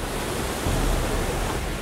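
Heavy water gushing from a dam release valve able to pass over 8,000 litres a minute, a steady dense roar that holds at one loud level without a break.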